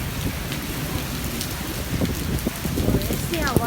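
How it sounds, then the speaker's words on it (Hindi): Heavy rain pours during a strong storm over a village in darkness, a dense, loud hiss of drops drumming on surfaces with rumbling low crashes underneath, growing rougher toward the end. "तेज़ तूफ़ान है"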